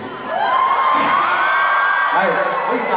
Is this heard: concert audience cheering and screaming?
yes